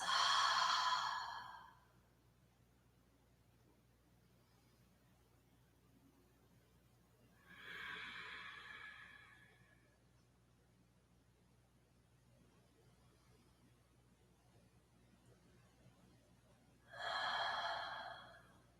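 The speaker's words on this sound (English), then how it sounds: "We're going to take 3 long breaths wherever we'd like to be." Three long, slow, deep breaths at the close of a yoga class, each a soft airy exhale about two seconds long, spaced several seconds apart over near silence.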